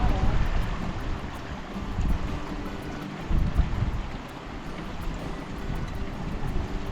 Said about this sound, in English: This creek here is the outflow from Sawtooth Lake, flowing down to that Liddler Lake.